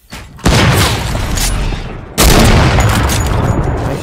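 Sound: gunshots from the video game Fortnite

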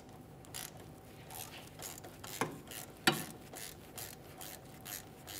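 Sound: removing a 10 mm bolt from a Mitsubishi Lancer wheel bearing

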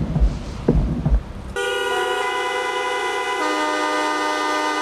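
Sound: car horns honking in memorial

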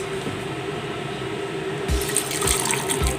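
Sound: water being poured in to make coconut milk

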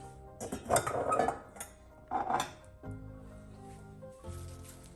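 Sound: stirring bean salad with dressing mix

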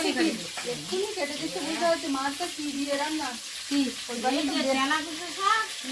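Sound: fish frying in a pan

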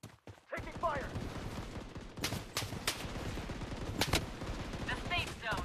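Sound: gunfire in the video game Bloodstrike

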